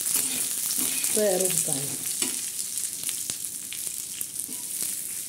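Green chillies fry in a dark masala in a pan for a spicy fish curry, giving a steady sizzle with stirring scrapes throughout while someone speaks briefly in Marathi over the cooking.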